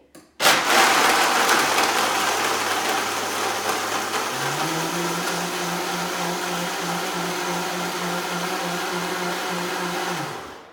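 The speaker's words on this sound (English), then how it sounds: "we are going to put the lid on the blender, and it's going to be a little bit noisy" A loud blender whirs steadily for about ten seconds while mixing a frozen margarita, its motor pitch jumping higher partway through as it grinds ice, then cutting off.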